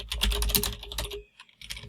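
Fingers type on a computer keyboard in quick bursts of close, crisp keystrokes, with a brief pause before a few more taps.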